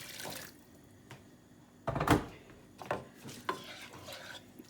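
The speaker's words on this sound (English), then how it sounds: "So I'm just going to add a tiny bit more water." Water splashes into browning minced meat in a hot pan, bringing a burst of sizzling and scraping stir strokes, then a few shorter sizzles and clatters against a low kitchen background.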